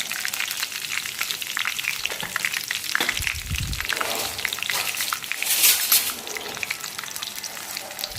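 Mustard seeds and curry leaves sizzle and crackle in hot oil in a pan, a steady close frying hiss with a brighter burst of spattering partway through. No one speaks.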